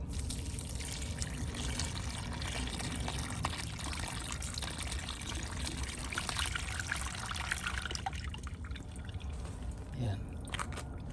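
Recycled water poured from a scoop onto potted plants outdoors, a steady trickling splash running continuously at moderate level with faint background noise.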